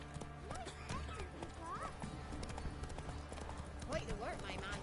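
A horse in The Witcher 3 trots with a rapid hoof clip-clop over rumbling ambience, while someone speaks briefly over it.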